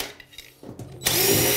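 Power drill or driver backing out the screws of a bathtub overflow plate during a tub and shower renovation, a short quiet stretch then a loud steady whir close by.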